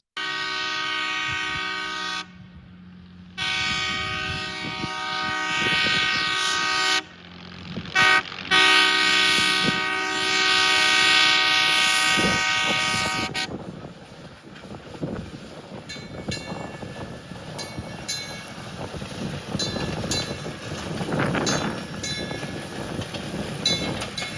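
A Galloping Goose rail motorcar arrives at Cumbres Pass Summit, sounding a loud multi-tone horn in several blasts before its engine and wheels rumble closer and pass noisily.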